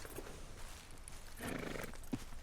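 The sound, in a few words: horse hooves in the video game Red Dead Redemption 2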